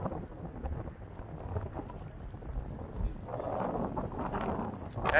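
Steady wind buffets the microphone on a small fishing boat out at sea, a continuous low rumbling roar with gusts swelling toward the end, a voice speaking faintly beneath it.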